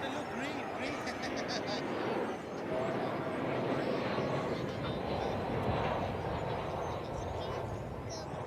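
A Boeing 787-9 Dreamliner airliner on final approach at DFW Airport gives a steady, broad distant roar that swells slightly and holds, with a person talking over it.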